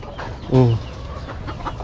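A chicken lets out a single short, close cluck over steady outdoor background noise.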